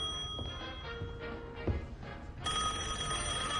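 A telephone rings with a bright electronic trill, a short tone partway through and then a sustained ringing burst that starts abruptly near the end, over faint background noise.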